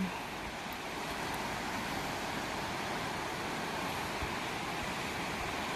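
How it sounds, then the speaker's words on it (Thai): Steady, strong rush of the Tanintharyi River in Myanmar flowing where a small stream joins it, a continuous broad roar filling the clip without pauses or voices. "น้ำไหลแรงเหมือนกันครับ"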